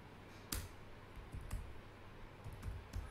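Keys typed on a computer keyboard for a few seconds, a sparse run of soft close clicks and taps, with a few louder keystrokes standing out against a quiet background.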